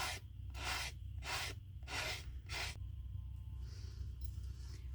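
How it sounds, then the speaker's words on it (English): Five rhythmic back-and-forth rasps of a sanding block scraping journal cover pieces up close, then the scraping stops, leaving a low hum. "this is noisy, so I'm going to fast forward through this part"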